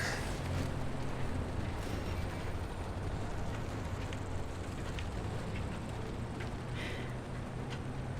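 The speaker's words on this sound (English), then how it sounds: "I feel like the rain kind of adds an extra layer of creepiness too" Rain in the video game Pacific Drive, a steady broadband hiss of falling water that stays even and moderately quiet throughout, with low rumbling underneath and no voices.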